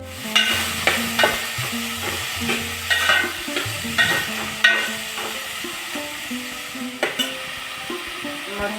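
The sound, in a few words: onion frying in oil with turmeric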